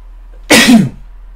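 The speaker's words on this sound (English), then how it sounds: "I need to sneeze." A single sharp sneeze bursts out close to the microphone, short, loud and breathy, with quiet surroundings before and after it.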